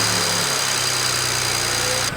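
A BMW engine, just repaired, fires up and settles into a steady, close mechanical hum with a low droning rumble throughout, the tone shifting slightly in the first half-second before holding even; no one speaks.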